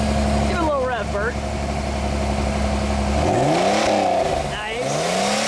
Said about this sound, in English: Give it a little rev, Bert.